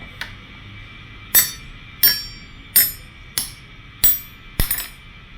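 Metal spoons are tapped one after another, six sharp, ringing clinks spaced about a second apart, close and clear against a quiet background.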